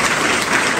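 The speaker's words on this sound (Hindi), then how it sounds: "जोरदार ताली आपने बजा दी।" Loud, dense applause from an audience at a Hindi motivational lecture on meditation, a continuous close wash of many hands clapping with no talk over it.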